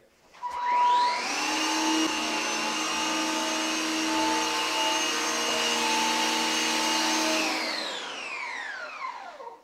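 A Gtech Air Ram cordless upright vacuum cleaner whirs up to a steady high-pitched whine, runs continuously near and loud, then winds down at the end.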